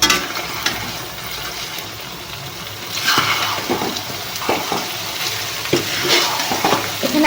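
Cooked rice goes into a wok-style kadai and is stirred while home cooking for Magh Bihu. Close scraping and stirring strokes come in irregular bursts over a steady light sizzle, with no talking.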